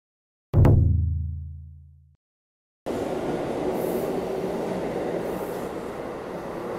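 A Sendai Namboku Line subway train, a new 3000 series, starts moving, a steady rumble of wheels and motor building up and holding, after a brief loud tone fades to silence.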